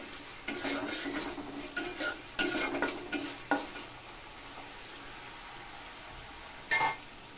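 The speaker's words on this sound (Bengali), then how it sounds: "এবার আমি দিয়ে দেব লবণ দিয়ে মশলাটাকে একটু ভালোভাবে কষিয়ে নেব" Spices and salt being stirred and fried in a pan for a Bengali rui fish curry, with a steady sizzle under repeated scraping strokes of a spatula, close and fairly loud, ending with a short clatter.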